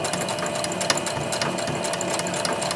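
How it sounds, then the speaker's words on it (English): A sewing machine stitches fabric scraps slowly, back and forth, with a close, steady mechanical whirring and a fast rhythmic needle clatter running the whole time. "I'm sewing slower, just little stitches from forward, backwards"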